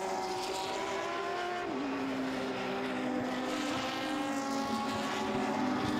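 Touring race cars lap the Most circuit with a sustained engine whine. Its pitch shifts as the cars pass, and the sound stays moderately distant and continuous, with no talk over it.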